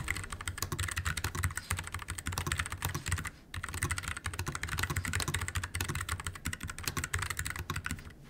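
Steady, rapid clatter of keys being typed on an Azio Cascade Slim keyboard, close and continuous with a brief pause midway, no talking.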